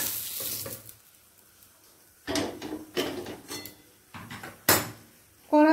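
Taro and potato pieces frying in a pan, heard as a sizzling start followed by several separate bursts of scraping and stirring with quiet gaps between them.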